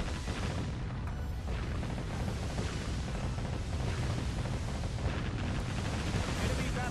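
Warship guns in the video game Warship Gunner 2 firing at a rapid rate, a continuous loud roar of booming shots and blasts packed densely together with no pause.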